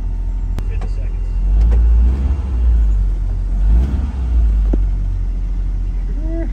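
A 1997 Lotus Elise S1 engine runs close by, a steady deep rumble that swells twice with light throttle and then settles back to a smooth idle.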